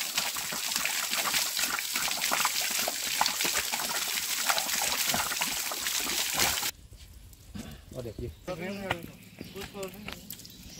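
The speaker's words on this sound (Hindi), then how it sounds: "ये देखो ऐसे यहाँ से पहाड़ों से कहीं रेस रेस के आते हुए भाई एकदम फ्रेश पानी रहता है, ये बहुत बढ़िया पानी।" Fresh mountain water rushes from a hillside spring pipe in a Himalayan village, a loud continuous gush and splash up close that cuts off abruptly, leaving quieter ambience with a voice speaking.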